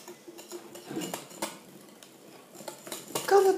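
Fromage blanc, egg and sugar cheesecake batter being mixed in a bowl, with light irregular clinks and scrapes of a utensil against the bowl, fairly soft and close, no talking.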